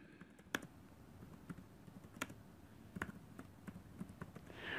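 Keys clack on a computer keyboard while a name is typed into a text box in Microsoft Word, the strokes coming in sparse, irregular taps that sound close and faint, with no talking.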